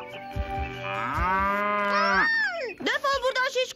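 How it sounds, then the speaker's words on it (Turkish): A cow in a film scene lets out a long, loud, drawn-out moo with a rising and falling pitch, followed by a shorter, shakier bellow that breaks into choppy calls. "Chen de ineğin sesini ve Cedric'in bağırmasını duyuyor"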